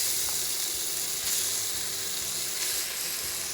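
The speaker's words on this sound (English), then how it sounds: "So we're going to start with sauteing or chunking our ingredients first." Onions saute in three tablespoons of oil, a steady close hiss of sizzling with no talk, for saltfish rice with split peas.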